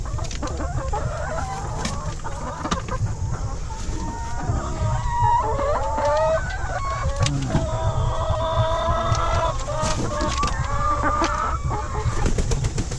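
Backyard laying hens in an egg-laying coop cluck busily and continuously, several birds overlapping close by with brief squawks amid steady background noise.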